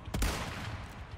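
A single sharp long-range gunshot in Resident Evil 4 Remake on Hardcore difficulty, a close, loud crack with a short ringing decay and no talking.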